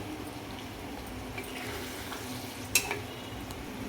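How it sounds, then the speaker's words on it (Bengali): Ginger, garlic, cumin and coriander spice paste with whole garam masala being stirred and sautéed in a pan, a steady low sizzle with soft scraping and a brief clink near the end, no talking. "সব মশলাগুলোর সাথে ভালো করে কিছুক্ষণ আমি কষবো এটা।"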